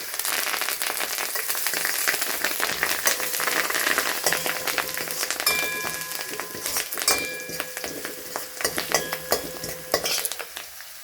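Mustard seeds, cumin, shallots and curry leaves crackle in hot oil for a sambar tempering: a steady, close, dense sizzle with scattered sharp pops and occasional spoon-on-pan clinks from stirring, gradually easing toward the end.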